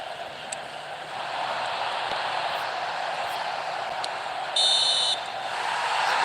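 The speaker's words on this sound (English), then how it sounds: "And the whistle goes for half-time." Referee's whistle blowing for half-time in the eFootball video game, a short shrill tone over steady stadium crowd noise, with faint blips scattered throughout.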